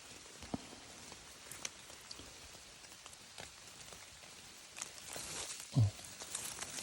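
Soft rain patters steadily on leaves and ground in a forest during mushroom picking, with scattered drips and a brief rustle near the end, no voices.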